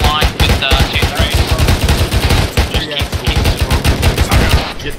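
Rapid, heavy bursts of automatic gunfire crackle continuously during a milsim airsoft operation, loud and close with dense repeated shots, and shouted voices break in underneath.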